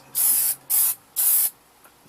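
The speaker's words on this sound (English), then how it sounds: "just give it a light spray. A light coating." Aerosol spray can giving a light spray from about six inches away outdoors: three short, even hissing bursts with brief pauses between them, close and clear.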